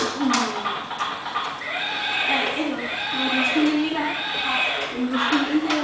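Horse neighing and whinnying in several bursts close by, mixed with people talking throughout.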